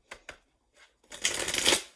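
Tarot cards are shuffled close up: two quick taps and a soft flick, then a dense riffling burst lasting about a second before it fades.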